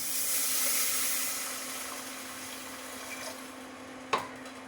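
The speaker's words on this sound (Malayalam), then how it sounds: "ഇനി ആവശ്യത്തിന് വെള്ളം ഒഴിച്ചു കൊടുക്കുക." Water poured into a hot pan of upma base with ghee and dried fruits, a broad hissing sizzle that is loudest at first and slowly settles, ending with a sharp clank near the close.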